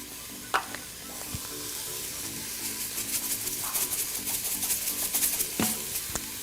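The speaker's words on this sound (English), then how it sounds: "saute until the vegetables are a little bit soft" Vegetables sauté in an Instant Pot with a steady crackling sizzle, punctuated by occasional stirring scrapes and knocks that grow busier toward the end.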